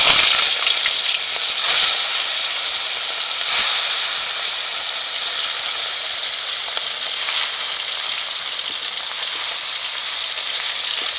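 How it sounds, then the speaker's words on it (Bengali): Koi fish frying in hot oil in a pan, a steady close sizzling hiss that runs throughout with a few brief louder spits and crackles. "এই তেলে মাছগুলো ভেজে নেব"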